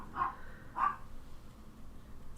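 A pet dog at feeding time gives two quick, faint barks about half a second apart, distant and alone against a quiet room.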